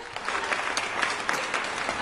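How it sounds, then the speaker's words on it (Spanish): Studio audience applause on a Peruvian talk show, a steady dense clapping crowd filling the whole moment with no speech over it. "Aplausos, Luis, por favor."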